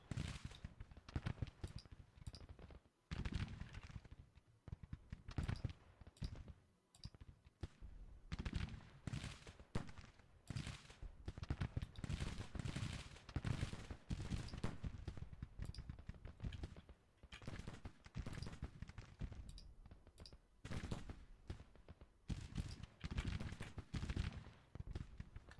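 Rifle volleys in a Grand Tactician battle, fought with plains rifles around Bowling Green: dense, continuous crackling musketry with sharp overlapping shots and occasional brief lulls, sustained throughout and heard alone.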